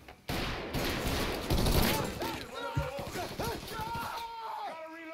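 Gunfire in the Mafia 3 video game: a dense, loud burst of rapid shots and fusillade-like bangs over several seconds, mixed with shouting voices and game chatter.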